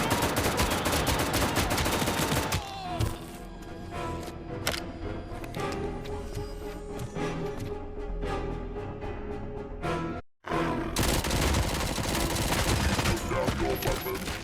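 Sustained heavy automatic fire from the ED-209 enforcement robot in the RoboCop: Rogue City game, loud dense bursts with impacts that continue almost without pause, broken by one brief near-silent gap before the barrage resumes.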